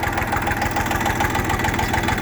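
Kentavr 244SX mini tractor with a KM385VT single-cylinder diesel idling, a steady, close, loud rhythmic chugging with fine knocking pulses throughout and no talk.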